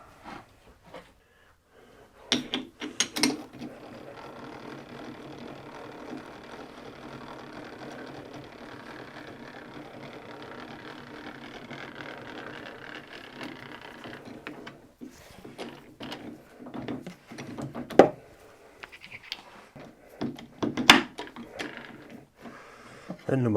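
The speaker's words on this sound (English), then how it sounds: "I'll have to change the jaws round on the chuck" Lathe chuck having its jaws swapped round, a run of metallic clicks and ratcheting with a long steady whirring as the chuck key turns, then sharper knocks and clanks of the jaws, close by with occasional quiet talk.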